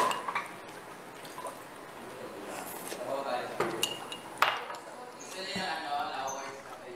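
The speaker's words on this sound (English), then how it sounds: "Wash the dishes." Dishes and cutlery clink and clatter while being washed, with water trickling and dripping between sharp metallic taps, close and uneven, as voices talk nearby.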